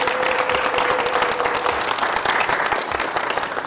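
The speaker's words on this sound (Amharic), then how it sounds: "አጨብጭቡ" A crowd at a gathering claps steadily, a thick, continuous rattle of applause filling the whole moment at an even, fairly loud level.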